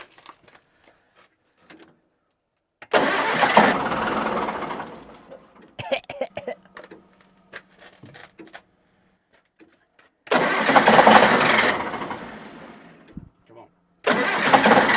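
Engine on a satellite tower generator cranked over by the starter: two long bursts of churning whir separated by quiet, then a third starting at the end, with a person muttering and talking briefly in between.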